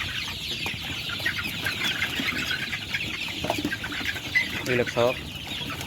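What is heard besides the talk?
Sonali chickens clucking on a farm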